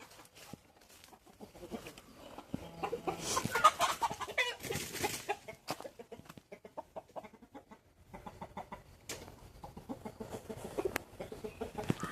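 Chickens and a rooster clucking in scattered bursts, some close and some farther off, with quiet gaps between the calls.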